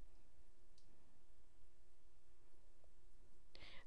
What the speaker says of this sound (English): You want to click on this little customize it button